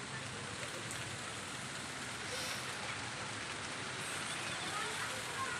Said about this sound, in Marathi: जोरात यायला लागला पाऊस घरी आल्यावर चालू झाला पाऊस